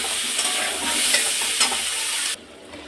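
Cubed potatoes and kohlrabi frying with onions in a hot pan, loud continuous sizzling with stirring scrapes, cutting off abruptly near the end.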